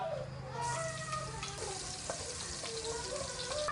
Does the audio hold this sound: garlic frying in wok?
yes